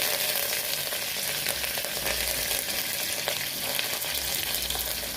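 Onions, dry red chillies and curry leaves frying in hot oil for tempering, giving a dense, continuous sizzle that stays loud and close throughout without any voices.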